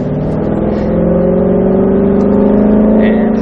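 Ford GT500 engine in a racing video game held on throttle, a loud steady mid-pitched drone that climbs slightly in pitch throughout, with a brief higher whine near the end.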